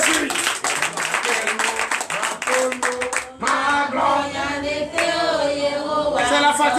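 Congregation clapping in acclamation at a Friday night deliverance and prophecy church service, loud rhythmic hand claps filling the room, with voices singing and calling out over the clapping.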